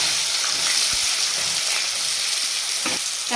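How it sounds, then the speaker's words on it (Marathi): Chopped onion, a pinch of asafoetida and a bay leaf hit hot oil in a pan, giving a loud, steady sizzle and fry with a few soft stirring clicks, no voices. "तेल गरम झालं आहे तर ह्याच्यामध्ये टाकत आहे चिमूटभर मी हिंग आणि हे तेजपत्ता त्यानंतर मी टाकत आहे कांदा"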